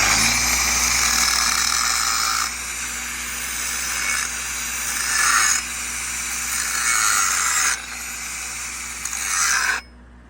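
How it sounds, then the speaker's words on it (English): A grinder bites into a steel welding fitting, a sustained loud whining rasp that surges and eases in several passes as pressure changes, then cuts off at the end with no one speaking. "I like to hit it with the grinder"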